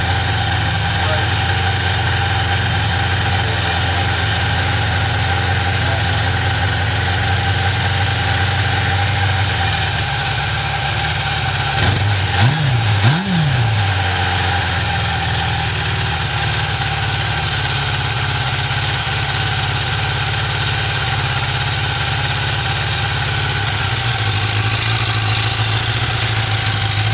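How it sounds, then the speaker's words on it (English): A 1996 Suzuki Katana 600 motorcycle idles after a cold start, a loud, steady close-up engine hum with a brief revving blip partway through before settling back to an even idle. "Cold start of the 96 Katana."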